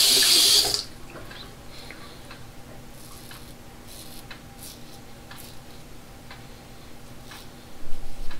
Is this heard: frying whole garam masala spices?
no